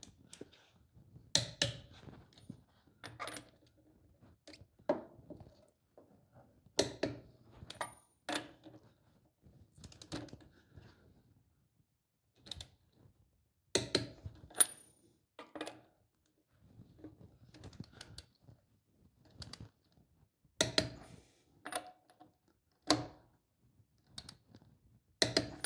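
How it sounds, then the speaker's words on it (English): Torque wrench clicking as lug nuts are tightened in a star pattern on a Toyota Tacoma wheel, heard as scattered sharp clicks and metallic taps, close by, in irregular bursts with quiet gaps between them. "what we want to do is go over each bolt or each lug nut until we feel a click"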